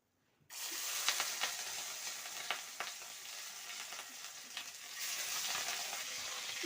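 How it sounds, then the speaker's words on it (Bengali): Rohu fish pieces sizzle steadily in hot oil in a pan, with intermittent scraping clicks as they are turned, starting abruptly after a brief silence and continuing close and even. "মাছগুলো আমি একটু উল্টে পাল্টে ভেজে নেবো দেখো মাছগুলো ভেজে নিচ্ছি উল্টে পাল্টে"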